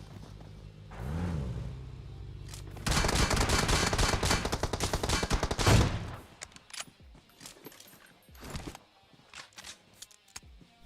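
AWM sniper rifle gunfire in the mobile game Battlegrounds Mobile India, heard as sharp shots inside a dense burst of game action and effects that fades into scattered quieter clicks and thumps.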